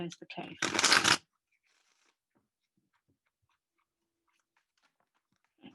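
Tarot cards from a Muse Tarot deck are shuffled in a quick, close riffle lasting about a second, followed by near silence with faint handling sounds.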